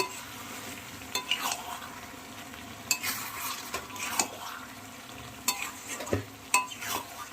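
A spoon scrapes and stirs a fish-head muri ghonto (rice cooked with fish head) in a pan, giving repeated scraping strokes at an uneven pace over a faint, continuous sizzle.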